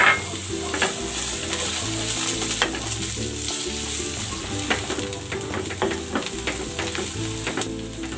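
Sliced onion fries in a pan for an eggplant dish, giving a steady, close sizzle broken by repeated scraping and clinking as a utensil stirs, with a low tonal hum underneath.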